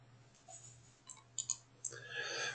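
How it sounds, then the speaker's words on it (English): A computer mouse is clicked while setting up a PC emulator, producing a few faint, crisp clicks close together, the last near a rising soft hiss in a quiet room. "Click it once and then right click and then edit."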